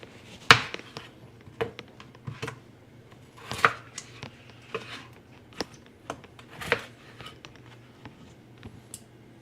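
A kitchen knife chops food on a board, sharp irregular knocks spaced about a second apart over a low steady hum, close and fairly loud, with no voices.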